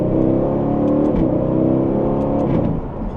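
Aston Martin supercar accelerating hard in track mode with manual shifting, a loud, continuous engine roar climbing through the revs at close range, easing slightly near the end.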